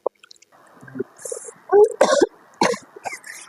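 A few short, harsh coughs in bursts amid quiet rustling and small wet sounds, close by.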